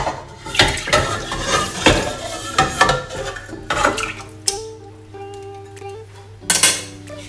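Clattering and scraping of marinated red pork being tipped into a metal pot, with clinks of utensils and bowl against the rim, then a ringing tone.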